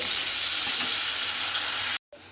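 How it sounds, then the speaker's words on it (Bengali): Eggplant slices frying in hot oil until browned, giving a steady close sizzle that runs unbroken for about two seconds before dropping out briefly. "এভাবে একটু সময় নিয়ে বেগুনগুলোকে খুব ভালোভাবে লাল করে একটু ভেজে নিতে হবে।"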